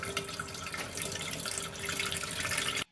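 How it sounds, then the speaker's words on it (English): Tap water runs steadily into a medium-sized cooking pot, a continuous broadband splashing rush that holds nearly even for about three seconds before cutting off abruptly, close and alone with no talk. "All you do is add water, kind of like less than half"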